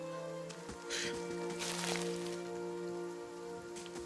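Steady rain patters on surfaces in the game Pillars of Eternity, a constant wash of drops over a low droning musical bed, with a brief heavier burst of splashes midway.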